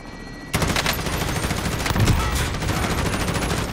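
Rapid gunfire in the video game Call of Duty Modern Warfare, a loud dense burst of shots starting abruptly and continuing without pause, with no clear helicopter or talking.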